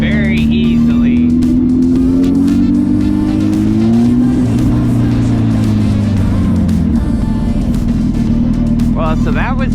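A Honda 919 (CB900F Hornet) motorcycle pulls away in first gear, loud and close. The engine drones as the clutch is let out and the revs rise, then the pitch drops and settles as the bike accelerates away.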